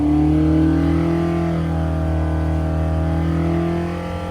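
A Carter 998 engine for a Brisca F1 race car runs on a dynamometer at about 70% throttle with no ignition advance, a loud, steady, close drone that holds level throughout and eases slightly at the end.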